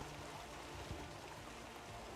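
A waterfall in the Mass Effect game rushes in a steady, faint wash of falling water that runs evenly from start to finish, with no voices over it.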